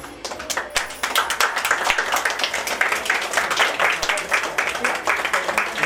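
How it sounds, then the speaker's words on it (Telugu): Many hands clap together at a yajna fire ritual held at Yellamma Gutta, a steady dense patter of claps filling the air throughout, with some voices mixed in. "వేసి మిగతా వాళ్ళంతా చప్పట్లు కొట్టండి"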